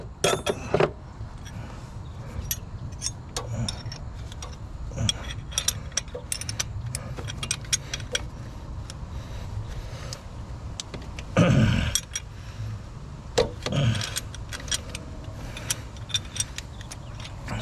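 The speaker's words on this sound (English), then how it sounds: "So I'm loosening this nut back up." A hand tool works a nut loose on the injector of a 2000 Ford F-250, with scattered close metallic ratcheting clicks, clinks and knocks, some louder bangs near the middle, over a quiet background.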